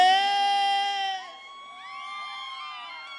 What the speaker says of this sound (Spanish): Chequea, cómo gritan las mujeres, como si fueran la primera vez.